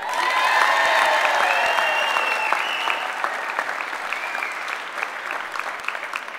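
Applause and some cheering from a crowd at a Democratic pre-primary convention in New Mexico, loud and sustained at first, then breaking into more scattered clapping as it fades.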